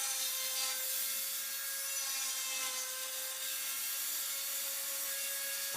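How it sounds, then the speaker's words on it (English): A Dremel rotary tool fitted with a circle-cutting attachment scores bird's eye maple veneer taped to a workboard for a guitar-dulcimer rosette, giving a steady high whine with continuous rubbing, scraping friction, close and alone throughout. "I'm using a Dremel tool with a circle attachment to cut the outside diameter and then the inside diameter of the rosette."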